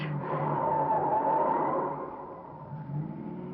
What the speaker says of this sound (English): That car's been tailing us for the last 5 minutes.